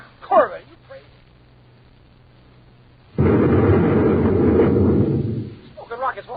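A space grenade explodes in an old radio drama, a broad roaring blast lasting a couple of seconds after brief voices, then fading as talk resumes.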